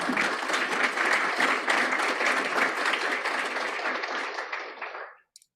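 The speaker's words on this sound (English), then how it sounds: "Thank you, whoever started that clap." An audience at a meeting claps steadily in full, dense applause for about five seconds, and the sound then fades out quickly into silence.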